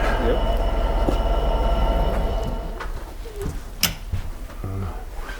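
A model train rumbles steadily along the track of an indoor model railway room with clicking wheels and a few thin squeals, while faint voices murmur in the background.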